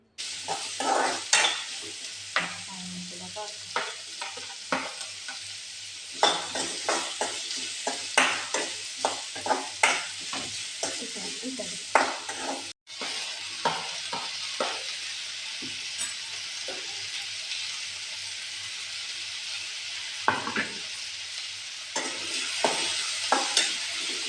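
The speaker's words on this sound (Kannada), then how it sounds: "ಬೆಳ್ಳುಳ್ಳಿ, ಬೇವು ಸೊಪ್ಪು ಮಾತ ಪಾಡ್ದು ಫ್ರೈ ಮಲ್ತೆ" Garlic, curry leaves, onion and tomato fry in a pan for an egg bhurji, a steady bright sizzle running throughout, broken by frequent scraping strokes of a spoon against the pan, a short pause partway, no talk.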